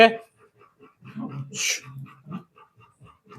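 A pet dog named Jhansi at night feeding time, making short whimpering and snuffling noises close by, intermittent and quiet, with a sharp hiss-like burst midway.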